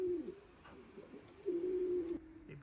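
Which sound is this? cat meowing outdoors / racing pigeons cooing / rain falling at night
racing pigeons cooing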